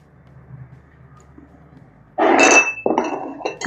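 A spoon clinks against a bowl while vanilla sponge cake batter is stirred, two loud bursts of clinking after a quiet stretch of low room noise.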